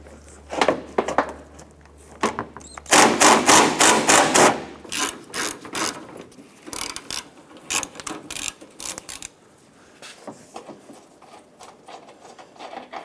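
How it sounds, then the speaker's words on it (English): A ratchet with a 10mm socket and extension loosens the bumper bolts on a 2006–2013 Chevrolet Impala, giving rapid rattling clicks of the pawl in several close bursts, one long dense run, then quieter intermittent ratcheting. "we're going to try and loosen these here using our 10mm socket and extension"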